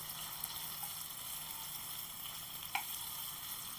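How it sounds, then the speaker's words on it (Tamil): Raw banana (vazhakkai) slices frying in a pan on low heat, a faint, steady hiss of oil with one brief clink partway through. "சிம்லேயே வச்சு இப்படி வறுத்துக்கோங்கப்பா. திருப்பி விட்டு வறுத்துக்கணும்."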